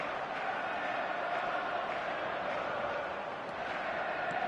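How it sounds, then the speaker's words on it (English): Steady roar of a stadium crowd in the eFootball game on PS4 during a Tottenham vs Liverpool match, a dense continuous wash of cheering and murmur at even loudness throughout. "the crowd are reacting to that now"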